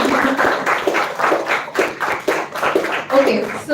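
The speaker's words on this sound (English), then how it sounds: "you guys can clap." A school audience claps in an auditorium at a children's literature festival. The clapping comes in short, uneven bursts with a loose rhythm and moderate loudness, and voices can be heard faintly underneath.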